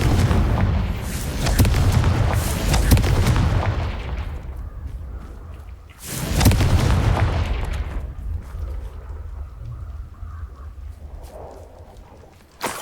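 The Confringo spell explodes in Hogwarts Legacy: a booming blast with a long rumbling roar, followed a few seconds later by a second heavy explosion that fades into quieter rumble.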